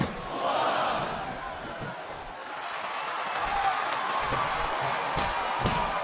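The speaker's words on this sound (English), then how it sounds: "listen to that chant, Taz." A wrestling video game crowd roars and chants through a tag team match in WWE SmackDown vs Raw 2007, a steady swelling arena din with a few sharp crowd accents near the end.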